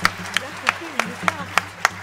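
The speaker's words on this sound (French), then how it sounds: "on peut l'applaudir" Evenly spaced claps ring out at a quick, regular beat during a stage show, a handful of sharp hand strikes heard over a voice talking.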